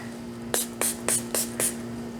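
Homemade cinnamon cleansing spray pumped from a trigger bottle, five short hissing sprays in steady rhythm, close and clear over a faint constant hum.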